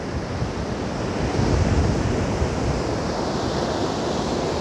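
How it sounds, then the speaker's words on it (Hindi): Sea waves rolling onto the shore at the Somnath coast in Gujarat, a steady, loud wash of surf with wind buffeting the microphone, continuous throughout with a slight swell midway and no voices. "जहाँ तक आपकी नज़रें जाए वहाँ तक समंदर ही समंदर है।"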